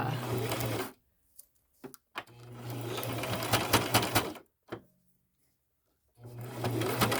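Sewing machine stitching thick fabric with elastic for a mini scrunchie, running in loud steady bursts with short pauses and brief clicks between them.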